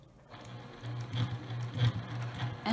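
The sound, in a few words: sewing machine stitching clear vinyl bag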